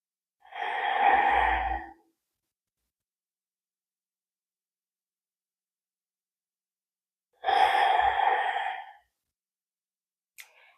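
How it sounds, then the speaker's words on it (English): Slow breaths in and out through the nose during a gentle morning yoga stretch, two long soft airy breaths separated by several seconds of silence, close and quiet. "Breathing in and out of your nose."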